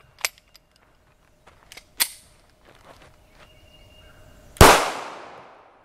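Small clicks and handling noises come first, then a single loud 9x19mm FMJ gunshot from a 4.95-inch M&P pistol cracks and rings out in a decaying tail.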